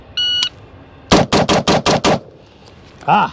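A Sig SPEAR LT or Geissele Super Duty rifle fires at targets in a quick string of six loud, sharp shots, with short electronic beeps before and after.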